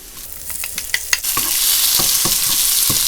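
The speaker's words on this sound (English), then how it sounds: "I want tomatoes to be nice and fried a little bit." Tomatoes frying and stirred in a hot wok with Chinese sausage and green onion for fried rice, a loud steady sizzle with scraping stir strokes of the spatula at the start.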